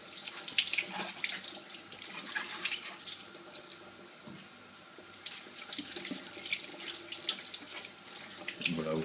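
Cold tap water runs steadily into a sink while vegetables for ratatouille are rinsed under it, a continuous splashing hiss that swells and dips as the produce moves through the stream.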